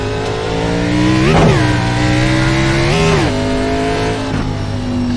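Simulated race car engine at Bristol's short oval in iRacing, loud and close, droning then revving up sharply around shifts in a few rising and falling sweeps as the car pushes out of the pit exit.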